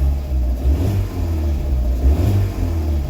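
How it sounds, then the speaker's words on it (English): A Fiat 500 with about 87k miles revs steadily with a low, throaty rumble, the engine showing a slight flutter in its note, close and continuous with no talking. "And the engine, there's a slight flutter."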